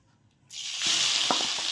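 Carrots dropped into hot ghee for halva, with a sudden burst of loud hissing sizzle that builds and stays steady, and a few faint taps of a spoon in the pan.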